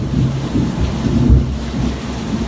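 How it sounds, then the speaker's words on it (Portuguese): Heavy rain pours in a steady, dense roar, with low rumbles of thunder and wind swelling beneath it, loud and continuous throughout. "A chuva está bem apertando aqui"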